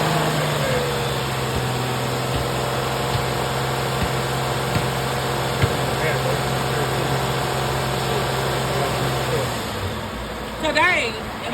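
An Infiniti JX35 engine with a bad alternator runs steadily with the gas held on, a constant mid-pitched drone that shifts and fades near the end.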